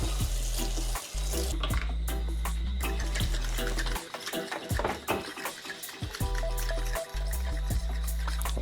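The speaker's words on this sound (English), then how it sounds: "Just add water to it." Water runs and splashes into a container of dry coconut milk powder being mixed for pilau, a continuous close-up rushing pour with brief pauses and clatters.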